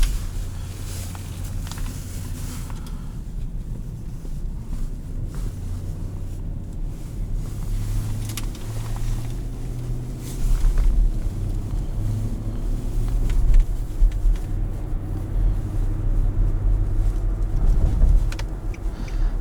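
A 2018 Infiniti QX80 body-on-frame SUV on a night drive, with a steady low engine and road drone and tyre rumble from inside the cabin that grows louder and rougher partway through, with no talk.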